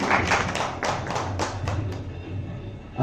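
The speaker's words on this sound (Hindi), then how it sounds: "तो जोरदार तालियां।" An audience at an award ceremony breaks into hearty applause: distinct bursts of clapping that thin out and fade over a few seconds.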